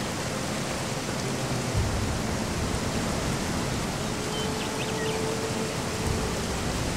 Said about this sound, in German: Ach, das Rauschen des Wasserfalls, da mache ich doch nochmal einen Tacken lauter.